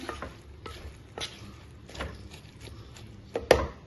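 Soybean kurma is stirred in a pan, with soft intermittent scrapes and light sizzling close by, ending in a sharper knock of the utensil.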